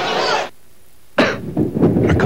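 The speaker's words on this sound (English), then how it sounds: "A cough or sore throat?" A person coughs in a lozenge advertisement, one harsh cough burst followed by silence, then a spoken voice continues.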